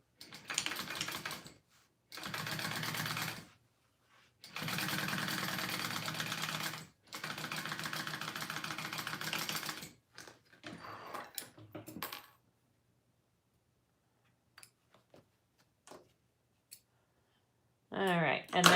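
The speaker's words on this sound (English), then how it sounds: "I'm gonna top stitch my liner on the liner piece" Sewing machine top stitching a wallet liner, several long bursts of rapid clattering stitches with brief stops between them, then a few quiet clicks and a final short run.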